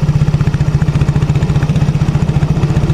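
A Yamaha X-Ride motorcycle idles at the exhaust after repair work for a sputtering fault, with loud, rapid, even chugging pulses and no talk.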